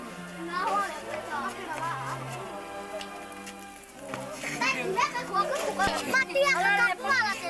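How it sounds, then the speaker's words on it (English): Children at a guest house in a Black Lahu hill village in northern Thailand play a game with seed pods, their lively voices and chatter rising and falling throughout, with small clicks and taps mixed in. "The children are playing a game with seed pods."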